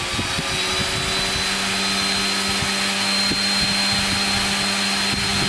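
Electric motor spinning a propeller at about 6000 RPM, a steady continuous whirring drone with a constant tonal hum, close and even throughout, with no voices.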